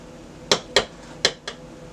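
A utensil mixing cherry shortcake batter strikes the bowl in four sharp clinks, spaced unevenly over about a second, clear and near against a quiet background.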